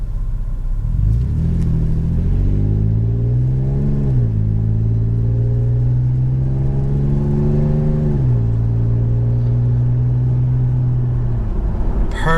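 A fifth-generation Toyota 4Runner with an aftermarket catback exhaust drives past, close and loud, its deep, throaty engine rising through several upshifts in a steady rumble with no talking.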